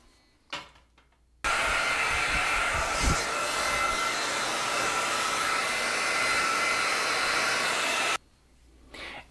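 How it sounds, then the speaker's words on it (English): A hair dryer blows hair dry, switching on to a loud, steady whoosh that holds for about seven seconds and then cuts off, near and with no voices. "I can also blow dry it."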